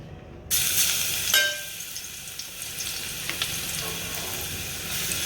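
Ginger-garlic paste hits hot oil in a pan and bursts into a sudden, loud sizzle that settles into a steady, close frying hiss with a few clinks.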